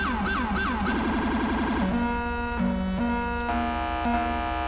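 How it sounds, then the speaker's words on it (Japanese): An LCPD police car siren in the video game GTA5, a New York-style wailing and yelping siren sounding loud and continuous, shifting from rapid yelps into steady alternating tones, with no talk over it. "そしてサイレンもね、 LCPD なので変わっています。"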